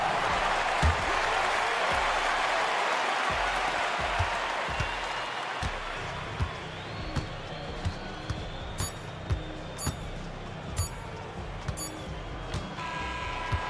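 Steady arena crowd noise with applause from an NBA 2K basketball video game, a Mavericks versus Celtics matchup, fills the scene continuously, with repeated thumping ball bounces emerging as the cheering fades slightly.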